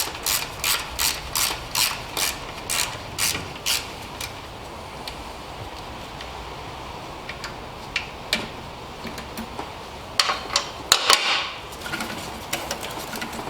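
A hand ratchet works on a bolt on a Mercedes M275 engine in an S65 AMG, giving a steady series of close, sharp clicking strokes, then scattered clicks and a brief clatter near the end, with no talking.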